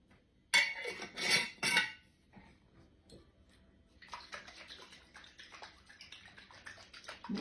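A container of pasta salad dressing is shaken in a kitchen, giving three loud rattling, sloshing bursts, then quieter clinks and handling noises follow.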